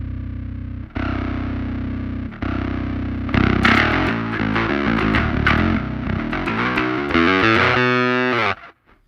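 A bass guitar played through a Aroura DSP Mammoth distortion amp sim plugin, with the clean DI signal blended under the distortion, plays sustained gritty notes, then a busier riff and a fast tremolo-picked run before cutting off abruptly.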